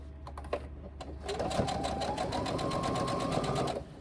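A sewing machine runs steadily, stitching an even seam on a reversible tote bag, with a few light clicks before the motor settles into a continuous, close, rapid whir.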